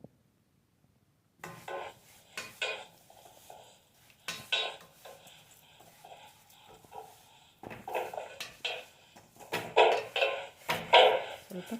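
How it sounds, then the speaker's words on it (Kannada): A spatula scrapes and stirs ingredients slowly frying in a pan for payasam, heard as irregular bursts of metallic scraping and clatter after a short silence, growing busier toward the end, with no talk. "ನೋಡಿ, ಈ ರೀತಿ ನಿಧಾನವಾಗಿ ಫ್ರೈ ಮಾಡ್ಕೊಳ್ಬೇಕಾಗತ್ತೆ."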